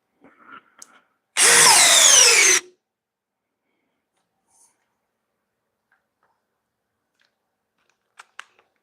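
A power drill driving screws with an offset attachment gives one loud burst of whirring rising in pitch for about a second, preceded and followed by faint clicks and tool handling in an otherwise quiet space.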